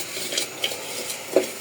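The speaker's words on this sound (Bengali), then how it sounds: "জিরার গুঁড়া শেষ হয়ে গেছে, তাই একটু জিরা ভাজা নেই।" Cumin seeds dry-roasting in a pan while being stirred, heard as a few light, scattered clinks and scrapes of a utensil against the metal over a soft, steady background, with no one talking.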